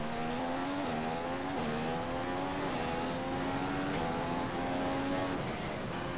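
An F1 race car laps the Chinese GP in the F1 2015 video game, its engine screaming loud and steady, pitch climbing through a run of gear shifts without any voices.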